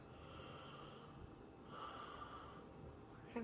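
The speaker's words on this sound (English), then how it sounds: "I'm yawning." A person yawns once with a long, breathy exhalation and a slight rising tone, heard close and alone without any talk.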